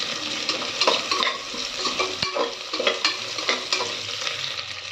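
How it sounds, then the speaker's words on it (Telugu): Sliced onions and green chillies fry in a pan with a steady close sizzle, broken by repeated scraping and stirring strokes of a spatula, no voices. "మనం చీరుకున్న ఉల్లిపాయ, పచ్చిమిర్చి బాగా ఎర్రగా వచ్చేలా వేగాలి"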